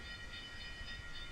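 A model train runs along a railroad layout, giving a faint, continuous rolling rumble with a light high mechanical whine, steady throughout and with no talking.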